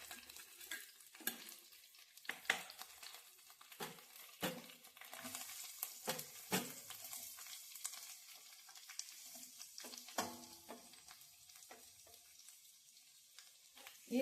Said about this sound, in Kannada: ಇವಾಗ ಈರುಳ್ಳಿ ಹಾಕ್ಕೊಳ್ಳೋಣ.